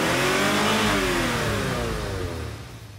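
A car engine revs hard and close, its intake sound nearly as loud as the exhaust, a rising roar that holds steady, then eases off toward the end.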